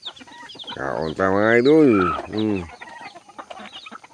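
A chicken clucks and calls in a loud, drawn-out run of harmonic cries up close, on a farm where someone talks in a casual way before and after.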